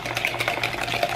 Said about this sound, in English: And we're gonna mix that together.